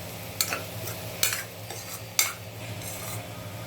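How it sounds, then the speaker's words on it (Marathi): Egg bhurji, spiced scrambled eggs, being stirred in a pan with a spatula, giving a few distinct scraping strokes over a soft, steady sizzle, close by and alone. "त्यासाठी तुम्हाला खूप हलवत राहायला लागते। चांगली हलवून घेऊया।"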